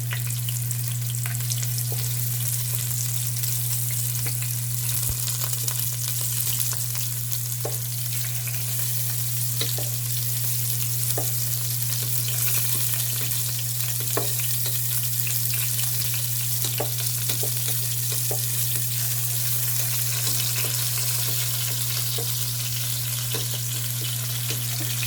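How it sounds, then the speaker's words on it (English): Batch of marinated pork searing in a hot pan, a continuous loud sizzle with scattered crackles and pops over a steady low hum, no voices. "we're just gonna wait until the other side is seared"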